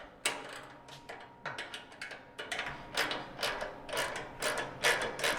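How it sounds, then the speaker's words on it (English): A wrench loosens bolts on a Kubota BX80 series tractor quick attach, giving faint, close metallic clicks and ratcheting taps in an uneven series. "we're going to start by undoing these bolts right here"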